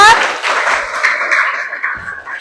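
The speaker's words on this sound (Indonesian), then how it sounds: "Tepuk tangan untuk kelompok 4." Classroom audience applause for a student group after their presentation, a brief wash of clapping from many hands, fairly loud, with a voice over it.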